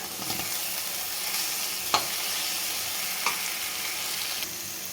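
Okra fry with coriander and chili spice stirred in a pan, a steady frying hiss with a few sharp scraping clicks of the spoon, no talking.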